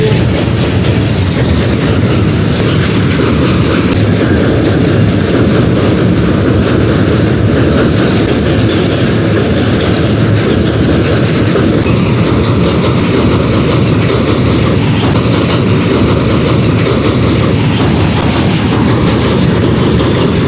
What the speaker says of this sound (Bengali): অবশেষে দেখতে পেলাম রেলগাড়ি, ঝিক ঝিক ঝিক ঝিক ঝিক ঝিক চলে আসে